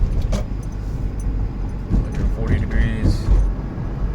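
A 2014 Subaru Forester XT with a turbocharged FA20DIT engine, freshly fitted with new spark plugs and warmed up, drives along with a steady low engine and road rumble, while a person talks briefly over it.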